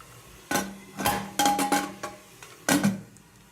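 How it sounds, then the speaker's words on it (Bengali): A metal lid clattering onto a cooking pot of onions being boiled, several sharp close clinks and knocks in quick succession with a final ringing clank, no talk over them. "ঢাকা দিয়ে দিলাম"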